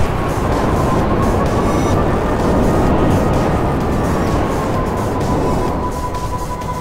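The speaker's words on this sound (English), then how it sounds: "Oh, that's police helicopters." Police helicopters in GTA 5 Online give a loud, steady wash of rotor and engine noise with a faint whine, unbroken for several seconds and with no talk over it.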